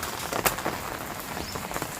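Heavy rain pours onto an open rooftop terrace in Rajkot, a steady dense hiss of drops with a few sharper splashes, close and continuous with no talking.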